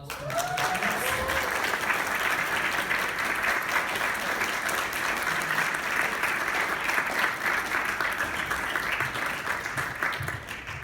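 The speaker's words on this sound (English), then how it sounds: "How about one final round of applause for" Audience applause closing an academic music history conference session, a continuous even wash of clapping from a sizable room, briefly overlapped by a speaking voice at the start.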